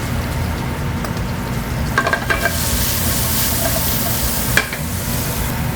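Chopped leeks tumble into a hot pan of frying chickpeas, bringing a steady close sizzle with a few soft scraping stirs and brief clinks, no voices.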